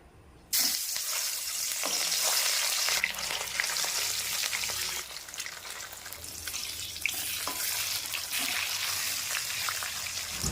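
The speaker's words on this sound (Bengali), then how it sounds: "তেল খুব ভালোভাবে গরম করে নিয়েছি তেলের মধ্যে মাছগুলিকে দিয়ে ভেজে নেবো" Pieces of catla fish hit hot oil in a wok, setting off a sudden loud sizzle that holds steady with faint scraping and crackles throughout.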